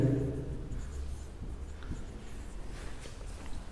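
Writing on a board during a lesson on transmission media: soft, continuous scratchy strokes, close and fairly quiet, with a low hum underneath and no talking.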